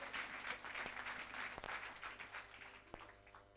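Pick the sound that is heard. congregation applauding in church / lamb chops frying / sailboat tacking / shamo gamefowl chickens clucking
congregation applauding in church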